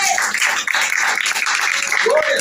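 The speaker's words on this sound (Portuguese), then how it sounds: "Levante a mão e aplauda Jesus de Nazaré." Applause from a church service congregation, steady and loud throughout, mixed with cheering voices and a preacher's raised speech.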